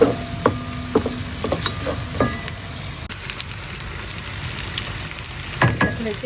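Small desi potatoes frying in oil in a pot alongside pigeon meat, a steady crackling sizzle broken by sharp metallic clinks of a spoon stirring, with no talking.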